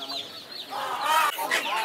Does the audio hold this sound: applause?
no